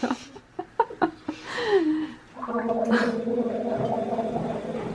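Someone gargles Coca Cola for a sore throat: a few short wet sputters first, then a long bubbling gurgle that rises and wavers in pitch, heard close and fairly loud.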